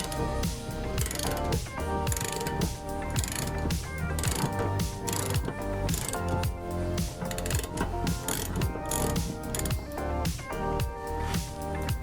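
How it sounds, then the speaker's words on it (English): A socket ratchet on an extension is turned counterclockwise to loosen the anode rod of a Suburban water heater in a TrailManor camper, giving steady rapid clicking that fills the whole stretch with no talk. "Take the socket, extension, and ratchet and turn counterclockwise."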